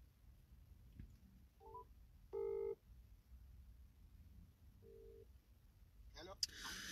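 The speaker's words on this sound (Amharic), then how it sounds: "እስኪ ስልክ እየተደወለ" A telephone call is dialed, with a few short electronic keypad tones sounding separately over a faint hiss, followed by a brief burst of noise at the end.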